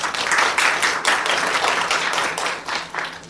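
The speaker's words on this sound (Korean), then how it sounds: "박수로 맞아주십시오" A lecture audience at a regional labor innovation school applauds a guest professor, a loud, dense, continuous wash of clapping from a room full of people.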